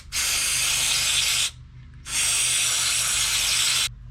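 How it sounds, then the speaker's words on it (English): Electrical connector cleaner hisses from an aerosol can in two long bursts, about a second and a half each with a short pause between, sprayed close up onto wiring of a 1948 Dodge. "This isn't brake cleaner, this is actually electrical connector cleaner."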